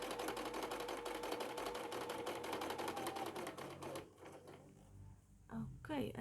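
A sewing machine runs steadily while top stitching a patchwork fabric sling bag made from scrap fabric, a fast even rattle for about four seconds that then stops, followed by quieter handling sounds.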